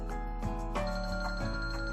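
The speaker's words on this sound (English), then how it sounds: "Is that my phone?" A phone ringing in the Kinkoi: Golden Loveriche video game; a short electronic ringtone with repeated bright tonal pulses over a steady background hum, brief and close.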